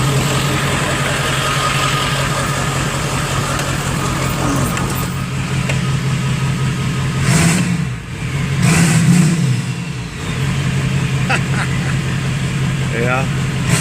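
An OBS Ford F350 with dual hood stacks runs close by with a loud, deep rumble, briefly rising and dipping as the throttle is blipped before settling back to a steady idle, with a voice heard at moments.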